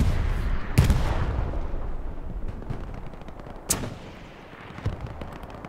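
Tank gunfire in the World War II shooter Hell Let Loose on Utah Beach: a few sharp, heavy booms spaced seconds apart, the first and second loudest, over a rumbling battlefield backdrop with no talking.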